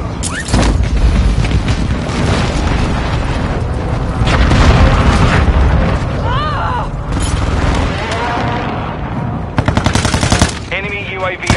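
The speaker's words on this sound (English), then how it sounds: "Friendly precision airstrike inbound." Explosions and gunfire from a precision airstrike in a shooter video game, loud booms and rattling bursts filling the clip over a dense mix of game sounds, with speech present.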